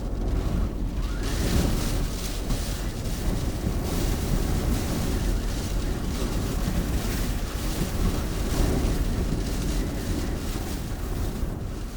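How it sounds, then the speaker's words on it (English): Strong wind roars and buffets against a camper van at night in Iceland, a continuous loud rumble with gusting surges and rattling lasting throughout, no voices. "the van was shaking in the wind"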